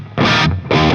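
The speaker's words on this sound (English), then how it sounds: "Here's my bass guitar tone." Two short, loud bursts of distorted bass guitar with reverb and delay, each cutting off abruptly with a brief echoing trail.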